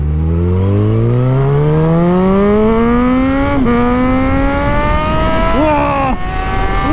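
A high-power Suzuki superbike engine screams through the gears while riding, its pitch climbing steadily, dipping briefly at each shift and climbing again, loud and close with no talk.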